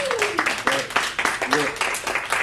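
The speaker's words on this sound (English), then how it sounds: "Can we give a hand clap just for the dual team?" A meeting audience claps for the dual team at an Organo Gold gathering, a steady wash of many hands fairly near, with voices talking and calling out over it throughout.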